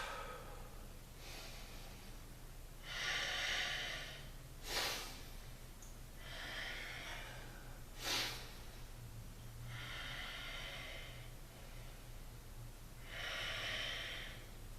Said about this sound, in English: Five more breaths.